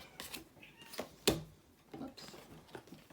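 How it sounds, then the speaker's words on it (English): Pet cats fight indoors in the background, giving short, faint yowls and hisses scattered among quiet pauses, with one sharper cry near the middle. "Sorry about my cats, they're having a cat fight."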